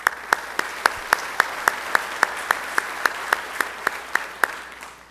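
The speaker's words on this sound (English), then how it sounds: "Let's give the committee a round of applause." Audience clapping at a senior salute ceremony, a faint, fairly distant round of applause with sharp individual claps standing out in a loose, regular pattern, with no voices.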